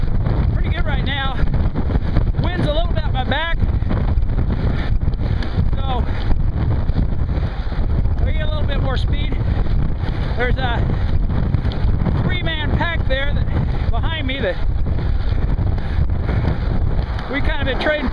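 Loud, continuous wind buffets the microphone while riding a motorcycle on the road, a constant low roar that persists throughout as a voice talks intermittently over it.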